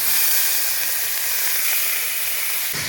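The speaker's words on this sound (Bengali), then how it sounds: "কেটে রাখা আদা রসুন পেঁয়াজ বাটা দিয়ে দেব কড়াই" Ginger, garlic and onion paste dropped into a hot wok of oil, giving a loud, steady hissing sizzle that runs without a break.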